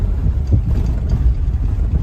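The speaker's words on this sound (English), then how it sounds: "Engine sounds good." A steady low engine rumble from a 2007 Ford E350 van while driving, close and fairly loud, with buffeting wind noise throughout.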